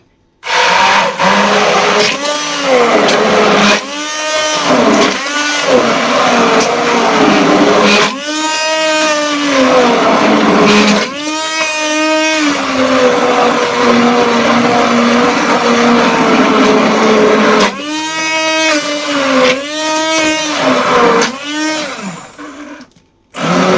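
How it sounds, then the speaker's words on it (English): A stick blender whirs through leek soup in repeated bursts, its motor pitch rising and falling as it is switched on and off and moved through the pot, loud and close. "So I'm going to blend it with the stick blender."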